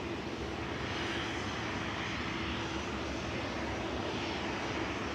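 A mostly green Aer Lingus turboprop airliner at Manchester Airport gives a faint, distant, steady engine drone that holds level throughout.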